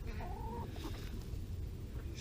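Garden chickens clucking softly nearby, a few short rising clucks over steady low outdoor background noise, with no speech.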